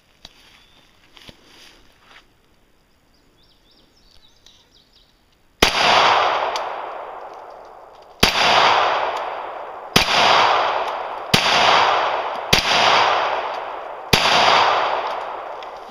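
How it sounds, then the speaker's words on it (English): Shots from a Glock 22C .40 pistol hitting steel plates: after quiet faint noise, six sharp loud reports, each followed by a ringing metallic decay, spaced about two seconds apart. "Be shooting it with the 40 Glock. It's the 22C"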